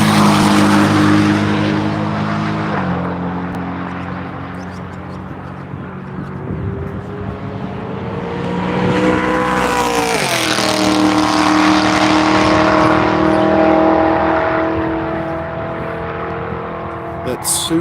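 A Lingenfelter modified Corvette E-Ray race car on a road course, its engine droning and shifting pitch as it approaches and passes close by, with tire noise, under continuous commentary.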